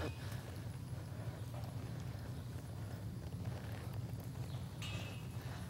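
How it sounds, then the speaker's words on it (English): Hooves of a mare clip-clop in a steady, even rhythm on an arena during a run, fairly faint and continuous beneath low background noise. "I'm going to lope this mare through now."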